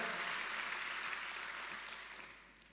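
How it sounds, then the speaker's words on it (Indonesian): A church congregation claps for Jesus during a worship service, a dense wash of hands filling the room at moderate volume and gradually fading out over the last second. "kalau mau tepuk tangannya lebih dahsyat lagi buat Yesus Tuhan kita."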